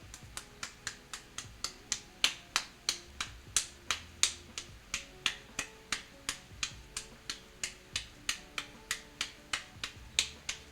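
Hands pat and slap masa dough into balls for chicharrón prensado gorditas, making a steady run of sharp, close clapping smacks, roughly three per second, heard alone without talk.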